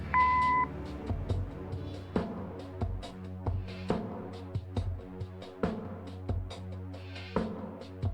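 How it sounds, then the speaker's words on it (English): An answering machine beep in the point-and-click video game Kathy Rain: a single steady electronic tone lasting about half a second at the start, followed by game music and ambient sound. "Leave a message after the beep."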